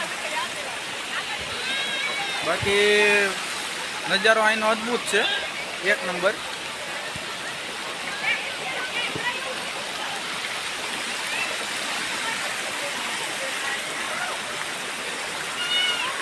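A rain-swollen waterfall at Jatashankar Mahadev near Junagadh pours in a steady broadband rush, with light rain still falling, while someone talks over it in the foreground.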